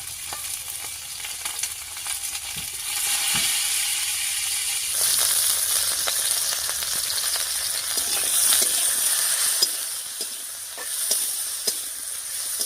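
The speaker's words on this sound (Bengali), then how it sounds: "তেলের উপরে ফুলকপিটা দিয়ে একটু নাড়িয়ে নিলাম" Cauliflower sizzles loudly in hot oil while being stirred, a steady frying hiss that grows fuller midway, punctuated by scattered clicks and scrapes of the utensil in the pan.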